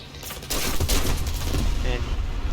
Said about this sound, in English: Gets the final bomb drop off here.